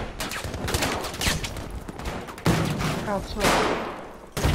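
Gunfire in the World War II shooter Battlefield V, a Breakthrough match on the Mercury map: loud, dense bursts of shots and blasts crowd the stretch, with a voice speaking over the battle.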